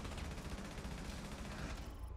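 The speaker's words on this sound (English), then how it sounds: "Or rather, fully automatic burst and one kill." Fully automatic gunfire in Rainbow Six Siege, a dense, steady rattle of rapid shots running through the whole stretch at a fairly quiet level, with no voices over it.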